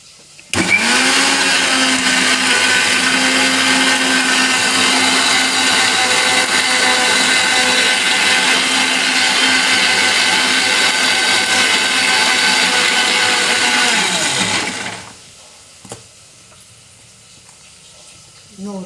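A mixer grinder grinds coconut for a Tamil bitter gourd curry, a loud steady whirring drone running for about fifteen seconds before it winds down and stops, followed by quiet clinks.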